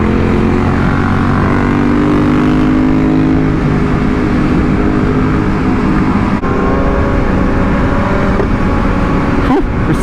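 A BMW S1000RR motorcycle engine roars loud and close during a wheelie, a dense continuous drone with no pauses across the whole stretch.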